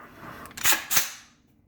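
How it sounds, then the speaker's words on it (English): An AR-15 trigger dry-fires with a sharp metallic click, followed moments later by a second softer click as it resets, close and alone. "Let's test that trigger."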